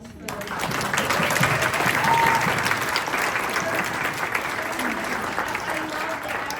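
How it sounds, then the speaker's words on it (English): Sustained applause from a large audience honoring teachers at an author event celebrating Little Free Libraries, a dense even wash of clapping that holds steady and fairly loud for the whole stretch. "Can we have a round of applause for those?"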